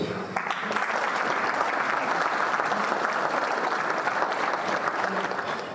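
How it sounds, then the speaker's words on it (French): An indoor audience at a municipal New Year's greetings ceremony applauds steadily and loudly for the whole stretch, a dense even wash of clapping with no voices breaking through. "on peut t'applaudir pour ça"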